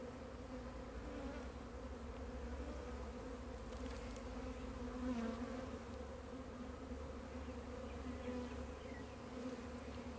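Bees swarm around a hive in a fallen tree, making a dense, continuous buzz that holds steady and fairly close for the whole stretch with no talking.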